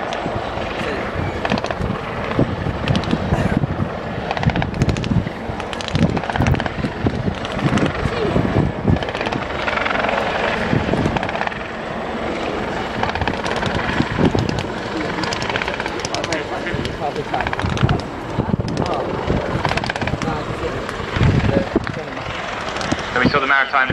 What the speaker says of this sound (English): This is the Jungly Lynx helicopter from the Commando Helicopter Force.